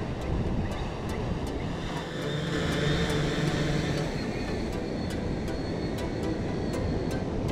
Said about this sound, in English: Drone's on its way back in now.